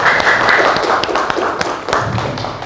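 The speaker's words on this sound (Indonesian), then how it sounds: "Ayo tepuk tangan nak" Scattered, uneven hand claps from a small group of schoolchildren in a classroom, sharp and close, fading in and out over a faint background murmur.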